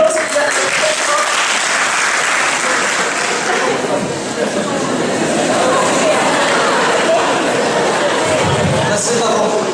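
A lecture-hall audience breaks into sustained applause at a medical faculty dean's talk, dense continuous clapping mixed with crowd chatter and voices throughout.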